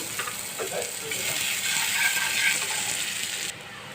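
Onions frying in hot oil in a pan while bitter gourd bhaji is made: a steady, bright sizzling hiss that stays even and fairly loud, then drops slightly near the end.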